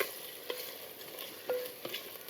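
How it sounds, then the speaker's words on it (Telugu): Onions and green chillies fry with ginger garlic paste in a pan, a soft steady sizzle with a couple of light stirring clicks, close but fairly quiet, no talking. "పచ్చివాసన పోయేదాకా వేపుకుందాం అండి."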